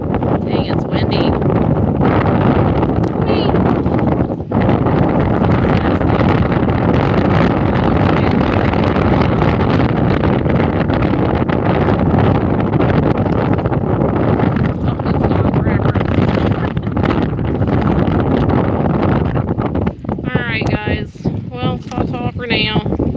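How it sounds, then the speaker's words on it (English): Strong, continuous wind by the Missouri River buffeting the microphone with a loud, roaring rumble throughout, briefly easing near the end. "Dang, it's windy."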